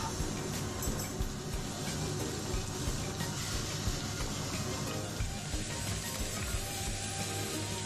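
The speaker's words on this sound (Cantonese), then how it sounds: "跟住就放啲雞落去煎啦。" Chicken pieces frying in hot oil in a wok for chicken teriyaki, a steady, dense, loud hiss and crackle that holds without a break throughout.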